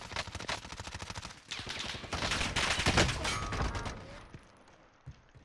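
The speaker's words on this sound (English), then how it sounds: "Getting shot from another place." Rapid gunfire in Call of Duty Warzone, a steady rattling volley that swells louder midway then trails off, fairly distant and without talk.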